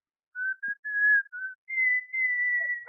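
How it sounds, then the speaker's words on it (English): A man whistles into a telephone for a radio comedy gag, a clear sustained tune in a few held phrases with short breaks, close and alone with no talk over it. "Now, whistle."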